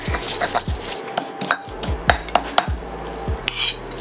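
Shrimp paste is worked together with other ingredients in a bowl, producing irregular knocks and scrapes of a utensil against the dish, close and fairly sharp, with a low background hum and no talking.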